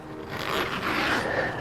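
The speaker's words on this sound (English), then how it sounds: "So you always want all your zips zipped up on the outside when you're setting it up." A zipper is drawn along the outside of a Hilleberg Kaitum tent during pitching, one close, continuous scraping zip lasting under two seconds, heard alone.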